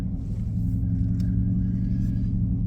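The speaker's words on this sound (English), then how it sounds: "First drive in the C8." A Chevrolet Corvette C8 rumbles while driving, its engine a deep, steady low drone filling the cabin without pause and with no voices over it.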